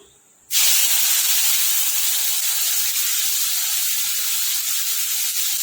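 Potato pieces dropped into hot oil with whole spices, turmeric and red chili powder for a potato sabji: after a brief quiet start, a sudden loud sizzling hiss bursts up and holds steady and close to the end.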